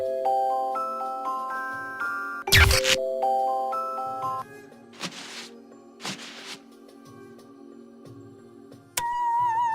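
A single bell strike rings out in the video game Dog Mendonça & Pizzaboy, a sharp loud hit that decays amid melodic game music tones and a few other bursts.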